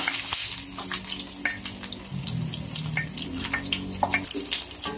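Garlic sizzles in hot cooking oil in a pan, a steady crackling fry with scattered pops at close range and no talking.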